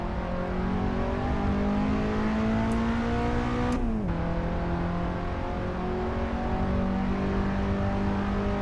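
Toyota Sera TRD mod in Assetto Corsa on a Pikes Peak mountain run, engine revving steadily at high load with a sharp gear change partway through, then rising again, loud and continuous with no talk.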